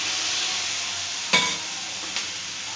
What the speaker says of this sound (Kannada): ಈ ಥರ ಟೊಮಾಟೊ ಫ್ರೈ ಆಗಲಿ ಸ್ವಲ್ಪ ಒಂದು 10 ನಿಮಿಷ